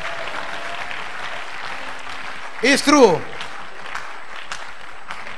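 A church congregation claps during a sermon by Rev AL Fant, a steady patter of applause under the preacher's voice with a brief loud shout in the middle.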